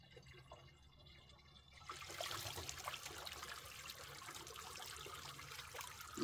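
Spring water flows into a container while drinking water is fetched in the countryside. A quiet trickle suddenly swells into a steady, louder gushing splash and keeps running without talk.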